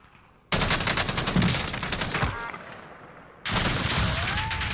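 Heavy automatic gunfire in Call of Duty Warzone on PlayStation 5: loud, dense bursts of shots that cut off for about a second before another close barrage starts.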